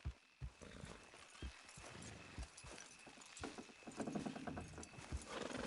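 Horse hooves clop in an uneven walking rhythm in the video game Red Dead Redemption 2 under a low rumbling background, faint and somewhat distant.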